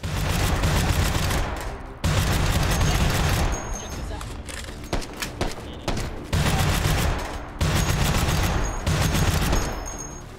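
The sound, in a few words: gunfire from big guns in VR video game Hot Dogs, Horseshoes & Hand Grenades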